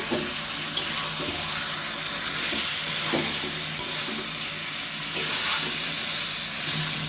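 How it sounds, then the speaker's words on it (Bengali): Meat being stirred as it fries in a pan, giving a continuous, moderately loud sizzle with repeated scraping and clattering strokes of the spatula throughout. "এবার মাংসটা ভালো করে নাড়িয়ে নিচ্ছে।"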